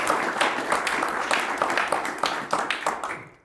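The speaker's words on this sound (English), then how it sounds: "Please give a round of applause to our speaker." A round of audience applause for a speaker at a biotech talk, moderately loud clapping from a modest crowd with individual claps audible, thinning out and fading at the end.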